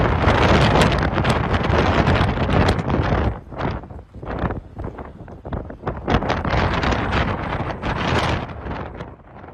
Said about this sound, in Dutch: auto's door de harde wind van Franklin flink last hadden van het opgewaaide zand